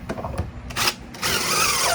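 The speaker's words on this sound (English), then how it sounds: "all these screws have been drilled with a countersink drill bit" A power drill fitted with a countersink bit bores into wood while building a bat box, giving a few short close whirring bursts followed by a longer sustained drilling run.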